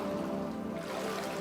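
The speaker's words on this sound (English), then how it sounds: "all the sploshy, watery sounds have an echoey feel, rebounding off the rocky walls" Water laps and sloshes in a rocky cavern pool, echoing off the stone walls as a steady, moderately quiet wash with no distinct individual splashes.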